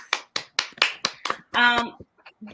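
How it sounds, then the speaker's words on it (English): Women at an improv comedy workshop on customer discovery give about seven sharp, evenly spaced claps, close and distinct. A brief voice follows, then a few faint taps. "So round of applause, ladies."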